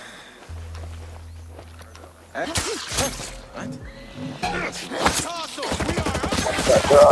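Gunfire in Tom Clancy's Ghost Recon Breakpoint cracks in scattered bursts amid shuffling action sounds, with a person talking over part of it.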